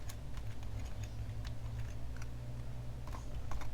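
Someone types on a computer keyboard while working in Office 2019, producing a steady run of soft, quick key clicks over a low background hum.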